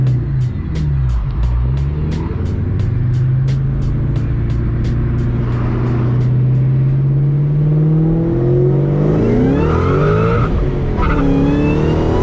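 A 2003 SVT Terminator Cobra drives on the road with a steady, loud engine drone and rising and falling revs as it shifts through gears, heard close from inside the car.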